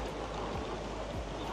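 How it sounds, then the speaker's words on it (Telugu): The indoor waterfall at Jewel, Changi Airport in Singapore, gives off a soft, steady rushing wash of falling water, fairly distant and constant throughout. "ఇది వాటర్ ఫాల్"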